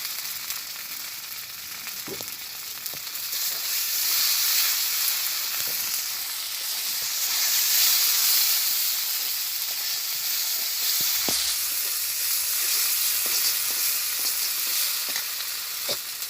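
Spices frying in oil in a pan, a continuous close sizzle that swells and eases, with scattered stirring clicks and scrapes and no talking.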